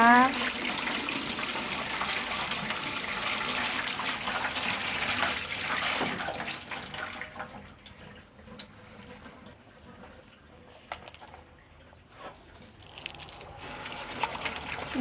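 Tap water runs steadily over long beans being washed in a kitchen for about six seconds, then drops to quieter trickles and light splashes.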